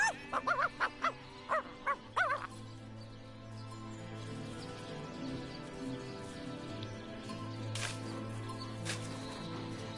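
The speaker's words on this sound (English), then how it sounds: "Looks like that dog is awfully agitated." A dog in a video game barks agitatedly in a quick burst of several yips and barks at the start, then falls away to a quieter ambient game background with faint rain-like patter.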